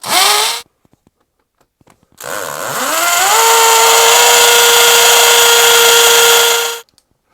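Loud power drill drilling holes for wall plugs: a brief whir, a pause, then a long continuous high-pitched spin that winds up and holds steady before stopping.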